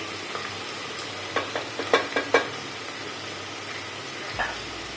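Pea pulao ingredients with potatoes being stir-fried in a pan make a soft, low sizzle, with a quick cluster of spoon scrapes and taps in the middle and one more tap near the end.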